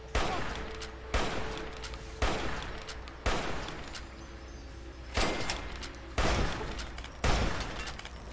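Automated turrets fire repeated bursts of gunfire at Enclave soldiers in the game Fallout 3, about eight loud, sharp volleys spaced roughly a second apart, each trailing off into a lingering rattle with no talking.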